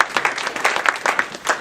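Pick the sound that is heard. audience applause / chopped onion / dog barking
audience applause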